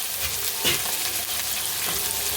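Spice paste frying in oil for stuffed koi fish is stirred, giving a loud, steady sizzle close up with faint scraping strokes throughout.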